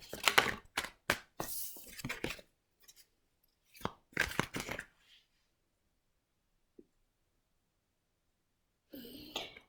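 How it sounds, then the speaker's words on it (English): A deck of cards being shuffled by hand indoors: several quick riffling bursts close by, then a long pause before another burst starts. "take notice of the cards that are jumping out while I'm shuffling here"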